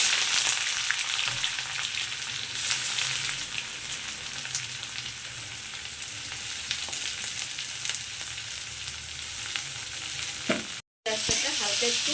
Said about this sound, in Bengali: তেলটা গরম হয়ে গেছে তো তেলের মধ্যে প্রথমেই দিয়ে দিচ্ছি পেঁয়াজ কুচি